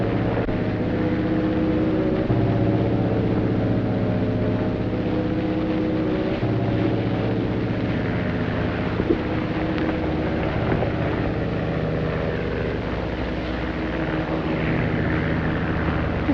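A propeller airplane drones overhead in a steady, loud, low hum that holds for the whole stretch, with no voices, over open country near a desert water hole.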